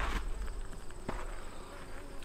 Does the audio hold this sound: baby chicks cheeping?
no